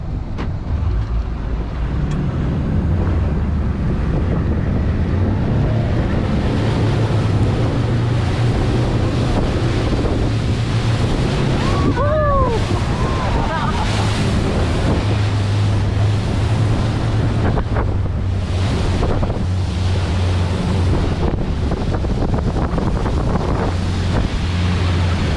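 A harbour sightseeing boat crosses another boat's wake in rough Vancouver Harbour water, with steady loud wind buffeting and surf roar throughout and engine drone underneath, plus a brief thump and splash midway.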